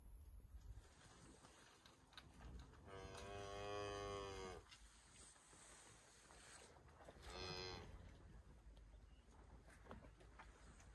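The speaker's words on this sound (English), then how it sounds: "I'm gonna visit the cows." Two long, drawn-out cow moos, the first louder and lasting over a second, the second shorter, over a quiet outdoor background with no talking.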